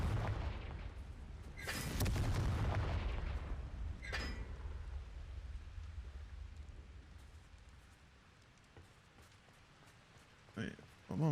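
Explosions from the Confringo blasting spell in Hogwarts Legacy on PS5: a deep boom followed by a second, sharper blast, then a fading rumble, with brief clicks near the end.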